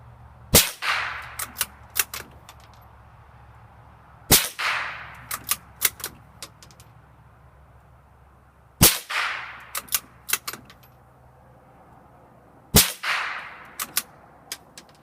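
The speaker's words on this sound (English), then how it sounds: "We have the sonic crack." Four sharp .22 Long Rifle shots from a suppressed rimfire rifle, fired with Federal target ammunition during an outdoor field test, each a loud crack followed by a brief decaying tail and a few small clicks, spaced roughly four seconds apart.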